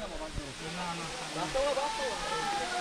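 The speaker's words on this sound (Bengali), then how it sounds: "দ্যাট লাস্ট আমরা ঝর্ণার কাছাকাছি এসে পড়ছি" A waterfall near Siam Jhorna in Sajek gives a steady broad rush of water close by, while people talk over it.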